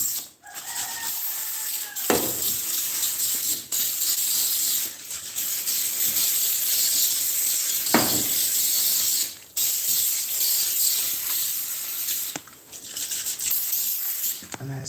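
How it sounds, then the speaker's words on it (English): Easy-Off oven cleaner is sprayed onto a stove and its knobs in repeated short bursts, each a sharp close hiss separated by pauses and pump clicks. "And I spray the knobs as well."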